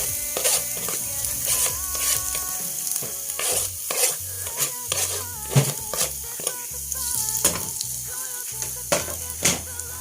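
Garlic sizzling and crackling in hot olive oil in a home kitchen, with bursts of spitting and stirring that come and go at a busy, uneven pace, close and fairly loud.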